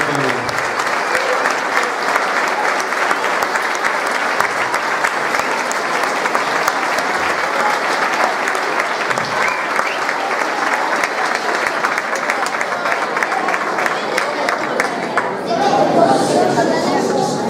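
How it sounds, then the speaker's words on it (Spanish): A hall audience gives sustained, loud applause at a school tribute to retiring teachers in Puntallana, dense clapping filling the space before it thins near the end, with some chatter. "Un fuerte aplauso para los verdaderos."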